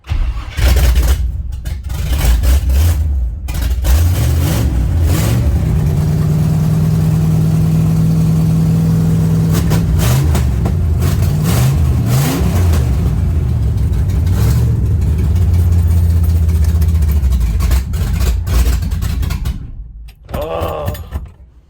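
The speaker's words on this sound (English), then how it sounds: "Doing this with open exhaust, it's awesome." A loud 1956 Chevrolet wagon gasser engine, still cold, revs hard through an open exhaust, roaring up and down repeatedly, then drops away near the end.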